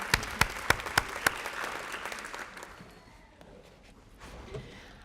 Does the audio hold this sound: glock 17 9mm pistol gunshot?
no